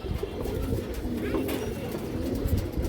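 Pigeon cooing close by in a loft, soft repeated low coos over a busy background of other birds and rustling, with someone talking faintly underneath.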